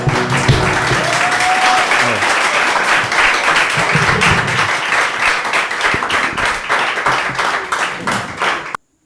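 A church congregation bursts into sustained, loud applause and cheering, dense clapping filling the space close by and fading slightly toward the end before cutting off abruptly.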